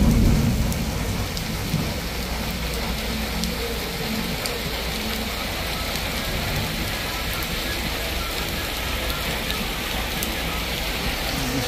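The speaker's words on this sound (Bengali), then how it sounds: "প্রচণ্ড বৃষ্টি হচ্ছে" Heavy rain pours steadily with rolling thunder mixed into the dense roar, a constant loud wash from start to finish with no voices.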